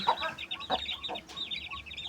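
A weak, tick-infested Aseel chicken clucks repeatedly in short, close bursts, with soft background noise between the calls.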